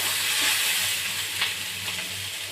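Potato and teasel gourd fry in hot oil under steady stirring, a loud continuous sizzle broken by a few scraping strokes of a spatula across the pan, close up with no voices.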